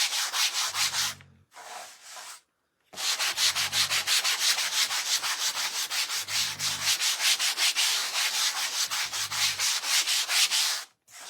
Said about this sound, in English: I'm going to give this a sand.